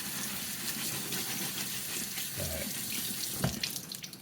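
Water runs steadily from a tap as a cornhole bag is rinsed under it, giving a continuous close splashing hiss with a brief louder gush near the end.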